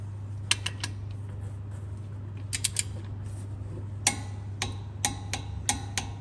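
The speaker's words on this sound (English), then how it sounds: "Now these bolts get tightened up to 30 Newton meters." Ratchet clicking while tightening brake caliper bolts on a Ford Ranger, short bursts of sharp metallic ticks in irregular groups over a steady low hum, close and fairly quiet.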